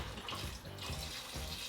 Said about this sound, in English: I'm gonna go ahead and start pouring in that vegetable broth